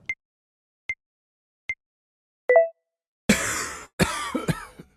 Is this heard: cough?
yes